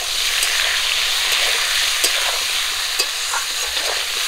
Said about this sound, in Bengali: ভালো করে বেগুনগুলোকে ভাজবো।